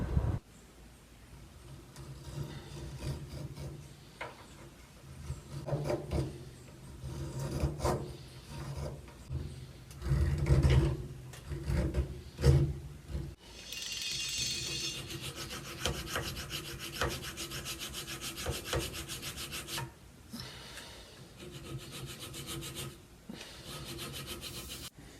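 Small spokeshave taking rough shavings off wooden bollard timbers for an HMS Thorn model ship, heard as repeated scraping, rasping strokes in an uneven rhythm, close and moderately loud, with no talk.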